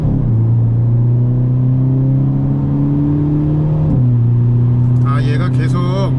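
A Hyundai Avante N on an open road pulls hard with a loud droning engine note that climbs steadily, drops at a quick upshift, then keeps building while a voice speaks over it.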